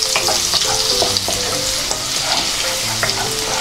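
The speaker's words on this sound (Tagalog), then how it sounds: "Pag natuno na yung butter natin, lagay natin yung una yung ating garlic." Garlic sizzles steadily in hot melted butter in a pan while preparing a budget creamy carbonara, with a dense continuous frying hiss and occasional clinks and scrapes of stirring, close and fairly loud with no talking.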